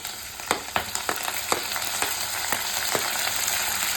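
Green chillies and curry leaves fry in hot oil for a cabbage stir-fry, a steady close sizzle punctuated by a run of sharp crackling pops and spatters, no voices.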